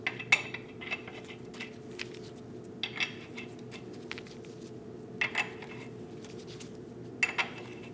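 Lug nuts go onto the wheel of a 2001-2006 Chevrolet Silverado in a series of short metallic clinks and clacks, scattered sparsely over a low steady background hum.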